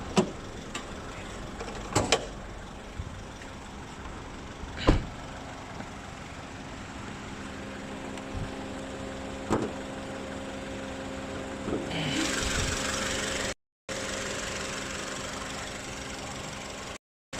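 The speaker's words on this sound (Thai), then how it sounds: "เครื่องยนต์ เป็นเครื่องยนต์ 2 ลิตร" A 2004 Honda CR-V with a 2.0-litre engine idles with the bonnet open, a low steady hum with a few clicks and knocks, then a brief louder hiss near the end.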